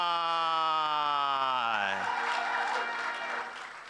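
An audience at an award presentation breaks into applause and cheering for a prize winner, rising under a voice that slides and dies away, then a steady crowd clapping that gradually fades.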